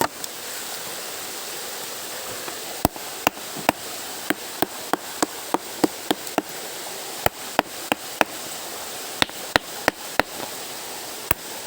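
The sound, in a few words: stone being pounded with a hard rock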